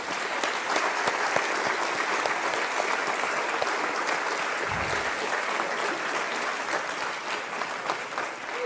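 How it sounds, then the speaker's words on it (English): Sustained applause from the audience at the closing ceremony of a disaster risk reduction forum, a thick even wash of clapping from many hands that carries on without pause. "I would like to ask you to please join me in giving them all a big round of applause"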